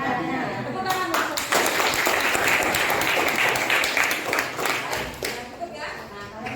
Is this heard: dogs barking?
no